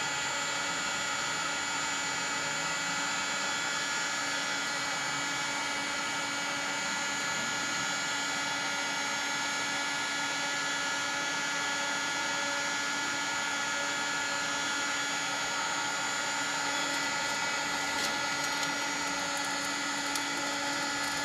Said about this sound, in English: Once the charcoal gets its initial light, I'll switch over to fan mode, which will then proceed to blow the flames throughout the fire.